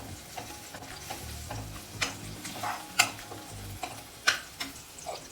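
Crushed garlic sautéing in a hot pan for a Marathi garlic fenugreek vegetable dish, with a soft steady sizzle, a few stirring scrapes and occasional sharp clicks of the spoon against the pan, no voices.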